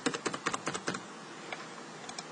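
Fingers tap a computer keyboard in a quick burst of close, crisp keystrokes, followed by a few scattered taps after a short pause.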